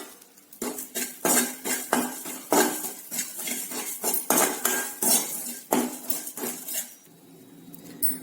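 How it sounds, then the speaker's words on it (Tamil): A spoon scraping and clinking in a pan while cumin and asafoetida are dry-roasted, sharp metallic knocks and scrapes in an irregular rhythm, close and clear, with a quieter pause near the end. "இப்ப இதுல ஜீரகமும் காயப்பொடியும் போட்டு வறுத்துக்கலாம்."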